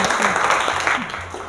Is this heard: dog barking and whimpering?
no